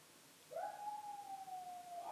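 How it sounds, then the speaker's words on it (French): A single dog lets out a long, sustained howl near a house, starting abruptly, holding a steady tone that slowly falls in pitch, fairly faint against quiet surroundings. "Chien qui hurle à la mort."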